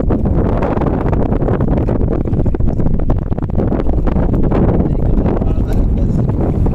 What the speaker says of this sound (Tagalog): Medyo lumalakas ang hangin, pero sakto lang, Tolits